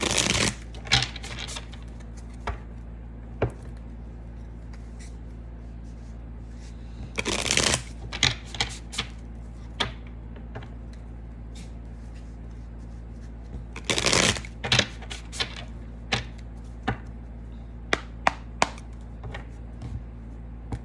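A Spellcaster's Tarot deck is shuffled close up in three quick rustling bursts spread across a quiet stretch. Soft taps and clicks of the cards fall between the bursts.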